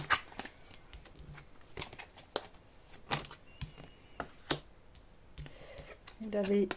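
Tarot cards being shuffled close by, a run of crisp riffling slaps and card flicks under a soft voice that talks intermittently, ending in a brief denser flutter.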